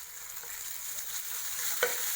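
Thecha, a green chilli paste, frying in a pan of oil with cumin gives a soft, steady sizzle with one small tap from a spoon, close by and quiet.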